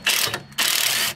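A pneumatic impact wrench rattles on a nut at a tie rod bolt on an AU Falcon's steering, two loud buzzing bursts separated by a brief pause, close and alone.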